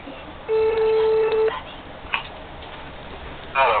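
A telephone sounds one steady, sustained electronic tone lasting about a second, followed by faint room noise and a brief voice at the end.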